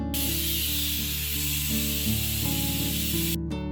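A pressure cooker whistle, cooking mutton leg, lets out a loud, steady hiss of escaping steam with a tonal whine, sustained for several seconds before stopping.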